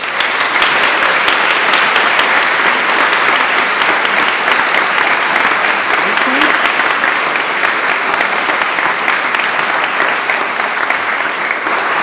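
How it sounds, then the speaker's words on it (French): Audience applause after a theatre production at the Sorbonne, a dense, sustained clapping from a crowd that holds steady and loud throughout. "J'aimerais que vous les applaudissiez."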